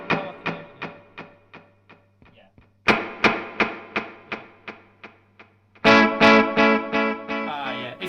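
Electric guitar played through a Boss DD8 delay pedal: picked chords repeat as evenly spaced decaying echoes, a quieter passage giving way to louder, denser strummed repeats near the end.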